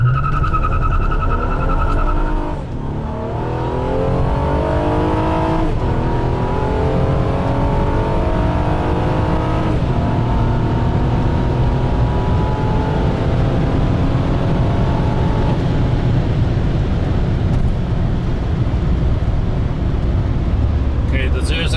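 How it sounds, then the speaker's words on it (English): A tuned 2014 Honda Accord V6 with a Ktuner Stage 1 tune and RV6 downpipe launches hard for a 0–60 and quarter-mile run, its engine roaring loudly and climbing through repeated gear shifts for over twenty seconds, up close from inside the car. "The Accord V6, 0 to 60 and quarter mile, Ktuner Stage 1 with RV6 downpipe."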